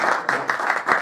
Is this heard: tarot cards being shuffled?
no